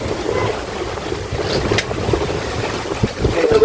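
An electric boat cruises on the River Ouse, with a steady wash of water and wind noise buffeting the microphone, and a few brief knocks and splashes close by.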